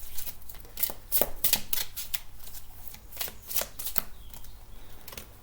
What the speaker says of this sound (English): I'll show you the cards in a bit after I shuffle them out.